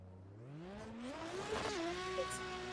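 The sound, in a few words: car engine roaring in sim drift racing video game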